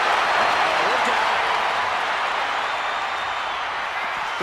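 A video game wrestling arena crowd in WWE 2K25 keeps up a steady broadband roar of cheering and murmur, dense and continuous throughout.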